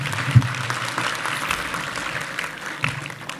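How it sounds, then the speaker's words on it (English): An audience at a gala awards dinner claps in a brief, moderate round of applause, with a faint murmur of crowd noise around it. "Yeah, we can clap"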